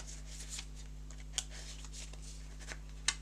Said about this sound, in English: make a deck and give it a shuffle